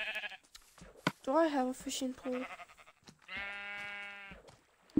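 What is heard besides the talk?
sheep bleating in the video game Minecraft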